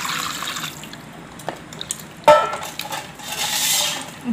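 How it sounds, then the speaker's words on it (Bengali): Homemade butter being rinsed with water in a bowl while making ghee in a village kitchen: a soft trickle and slosh of water, one sharp close splash midway, then a fuller rush of pouring water, with no talk. "আর একবার ভালো করে জল দিয়ে ধুয়ে নেবোটা"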